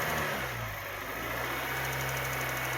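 A 2007 Honda Fit Sport engine idles low and steady nearby, a continuous rumbling drone with a faint rhythmic pulse and no talking over it.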